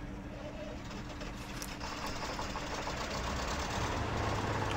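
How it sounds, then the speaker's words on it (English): A truck engine in the off-road driving game Spintires idles in a steady low rumble, with faint knocking and a slightly rising drone toward the end, no voices. "let's go ahead and start this engine"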